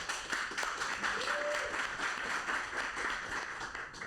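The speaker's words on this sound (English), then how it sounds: "So give a bit of applause for them." Audience applause at an esports corporate culture event, a steady dense wash of clapping with some crowd murmur, continuous for a few seconds at moderate distance.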